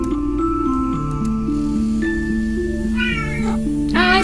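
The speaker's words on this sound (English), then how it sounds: "Oh, it's a kitty!" A cat meowing in a horror exploration game set in a monastery, loud repeated meows over a steady droning game soundtrack.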